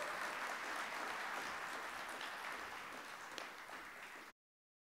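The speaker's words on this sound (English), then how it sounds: "Let's give him a round of applause." A round of applause from the audience at a parliamentary swearing-in ceremony, a steady wash of many hands clapping at moderate distance, sustained evenly before stopping abruptly.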